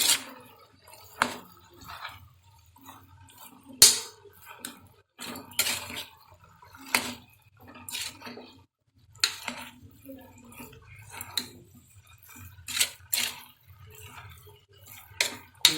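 A spoon scrapes and clinks against a pan while grated potato is stirred into a tomato, chickpea and soy chunk curry, with irregular close metallic taps and soft wet stirring sounds spaced across the stretch.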